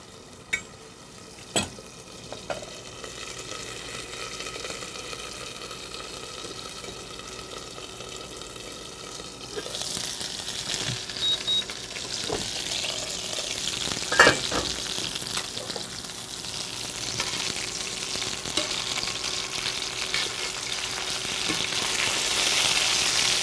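Quail fries in a partly lidded pan, a steady crackling sizzle with occasional sharp pops of splatter that grows louder and brighter in the second half.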